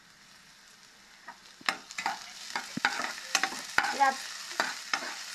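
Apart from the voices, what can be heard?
onions frying and being stirred in a pan for pizza topping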